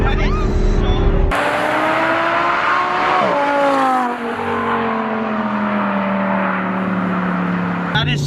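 Audi R8 V10 fitted with an ARMYTRIX titanium exhaust, revving hard and loud close up, engine pitch climbing and sliding down in long sweeps, with a sharp burst at the start and another near the end.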